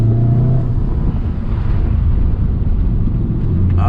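Volkswagen Golf R engine on a winding road in Japan, a loud steady drone and rumble from inside the car as it downshifts, with no talking.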